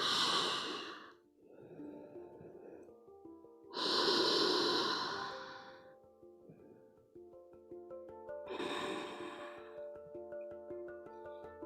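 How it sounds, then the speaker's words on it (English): Deep belly breaths drawn in and then released out through the mouth, three long audible exhales and sighs spaced apart over soft sustained music, close and clear. "Let's take at least 3 in breaths into the belly, out breaths through the mouth."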